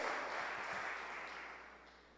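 A church congregation applauds, a broad, dense wash of clapping that holds steady and then gradually fades over about two seconds, with no voices.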